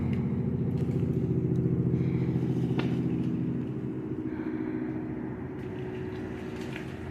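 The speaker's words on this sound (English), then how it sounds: "Did you guys hear the truck?" A truck rumbles past close by in South Carolina woods, a steady low engine drone that slowly fades as it moves away, heard alone without talk.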